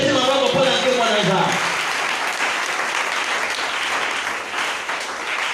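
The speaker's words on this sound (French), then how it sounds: "On acclame pour la gloire de Dieu." A church congregation at a Sunday service bursts into sustained applause, loud and dense, while a voice speaks over the opening moments before fading under the clapping.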